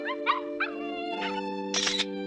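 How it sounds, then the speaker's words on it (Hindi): A cartoon dog in a Doraemon episode gives a few short whining yelps and then a longer, louder bark over a steady background music drone. "मॉम, अभी मैंने एक डॉग की आवाज सुनी।"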